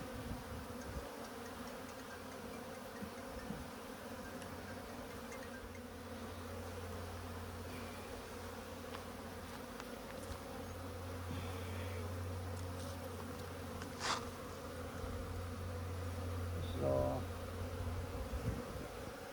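Honeybees buzzing around an open hive during an apiary check in Alaska, a soft, continuous droning hum from many bees close by, with occasional louder individual buzzes passing near.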